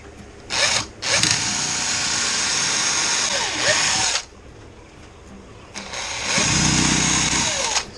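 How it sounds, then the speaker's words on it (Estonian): A power drill drills a pilot hole in wood in several bursts, spinning up and winding down between runs, loud and close, with brief pauses between. "Ärge siis unustage kunagi auku ette puurida."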